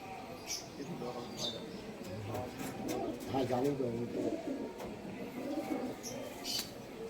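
Kamagar pigeons from a breeding pair of high-flying birds coo softly in a low, throaty warble, swelling mid-stretch amid faint chirps and background noise, heard at close range.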